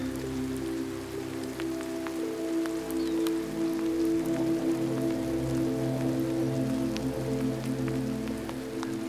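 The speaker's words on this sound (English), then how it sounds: "the rain is finally coming." Steady monsoon rain pours down in Tucson, Arizona, a continuous wash of drops hitting surfaces with scattered nearer splashes and a low rumbling undertone, sustained and fairly loud throughout with no voices.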